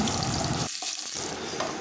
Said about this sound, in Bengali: আলুটাকে একটু লাল করে ভেজে নিচ্ছি